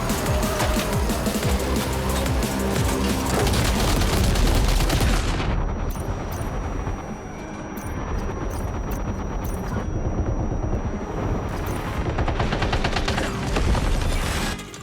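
Dense, loud, continuous gunfire in the video game Death Stranding 2, a heavy barrage with a short thinner stretch midway before the shooting builds again, with engine-like rumble mixed in.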